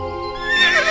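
A horse in the Horse Paradise video game gives a single short whinny, close and clear, rising into a bright shrill neigh with no talking over it.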